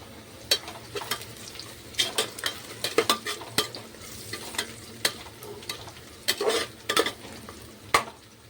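Onion, chilli and garlic paste fries in a pan for a chicken biryani, with steady sizzling broken by repeated sharp scrapes and clatters of a spoon stirring against the metal, close and fairly loud.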